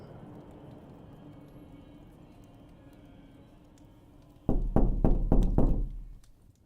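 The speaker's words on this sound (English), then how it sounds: "I woke up to heavy knocks on my door around sunrise" About five or six heavy, booming knocks land on a door in quick succession. They break a quiet, low background hum and are loud and close.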